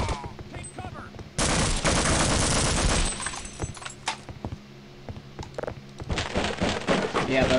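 Gunfire from Half-Life: Opposing Force, a loud blast followed by several sharp shots and clanking reports over game noise, with a brief burst of firing again near the end; a voice speaks in the middle.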